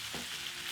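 Masala pork ribs sizzle quietly in a single pot while being stirred, a soft steady frying hiss with a faint scrape, low in level and with no voices.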